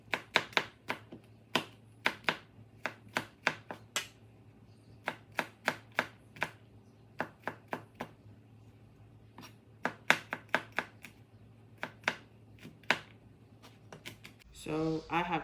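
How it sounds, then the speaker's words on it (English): Garlic cloves chopped with a knife on a cutting board, a long run of sharp, uneven taps with short pauses, close and clear over a low steady hum, ending in a brief rustle. "So you need to chop the garlic."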